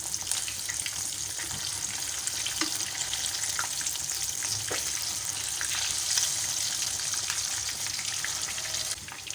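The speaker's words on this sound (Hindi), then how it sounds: "तेल हमारा गर्म हो गया है। ये मीडियम टू लो फ्लेम पे इसको मैं पका रही हूँ मछली को।" Fish fries in hot oil over a medium-low flame, giving a steady, dense sizzle with faint crackles throughout, close and continuous with no talking.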